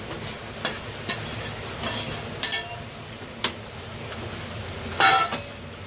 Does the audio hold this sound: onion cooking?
yes